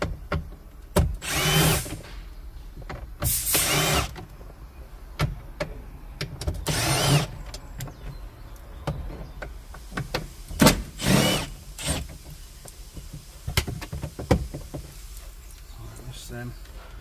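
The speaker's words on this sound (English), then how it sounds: "There's a load of Torx bits here which hold the dash in. We'll get them out." Cordless power drill backing Torx bolts out of a 2016 MG3 facelift dashboard, several loud whirring bursts of a second or two each, close by, separated by clicks and handling noise, with occasional talk between.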